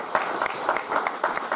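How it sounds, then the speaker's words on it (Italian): Audience applause at an evening wine and sax music event in Puglia, a steady wash of many hands clapping with irregular louder bursts, close and continuous throughout. "Le salutiamo con un applauso"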